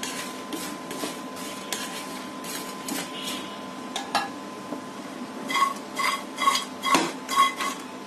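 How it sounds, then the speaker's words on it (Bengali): Bread slices frying crisp in a pan, with a faint steady sizzle under repeated clinks and scrapes of a utensil against the pan, the scraping growing louder and more rhythmic toward the end; no one speaks. "পাউরুটিগুলি প্রায় ভাজা হয়ে গেছে। আমি আরেকটু ভেজে নেব।"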